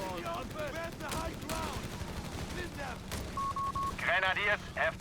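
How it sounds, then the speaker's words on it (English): Machine guns rattle in a Company of Heroes 3 1v1 battle, with short automatic bursts and distant battlefield gunfire mixed under a commentator's continuous speech, plus brief game interface beeps. "there's the second machine gun now by Little Freya"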